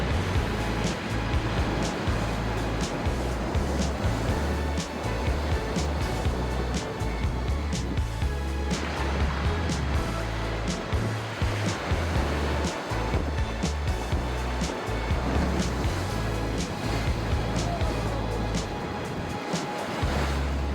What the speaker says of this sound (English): This is just a small example of how violent and rough the waves can be.